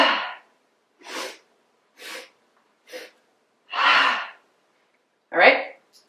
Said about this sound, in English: So you're going to do 3 inhales with our movement.